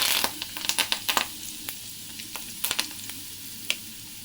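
A tempering of dried chillies, asafoetida and curry leaves fries in hot oil. Bursts of sharp crackling pops are dense at first and then thin out over a low sizzle, close by.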